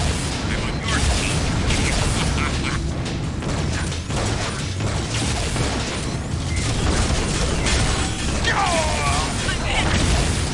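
Flak cannon fire in the arena shooter Unreal Tournament GOTY Edition on PC: dense, continuous booming and mechanical clatter of repeated shots, with no gaps, heavy and loud throughout, mixed with other game sounds and a voice talking over it.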